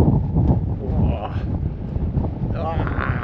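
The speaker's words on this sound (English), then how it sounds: "There's the wind." Strong wind buffets across open moorland in the Cheviots, a loud, continuous roar with gusty surges and rumbling microphone buffeting from start to finish.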